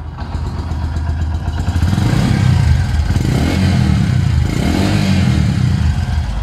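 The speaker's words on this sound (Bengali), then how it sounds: "প্লাটিনার যে সাউন্ড মারাত্মক লেভেলের।" A used Bajaj Platina 100 motorcycle idles steadily close by, its engine running with a continuous low rumble and a faint clatter and no one talking.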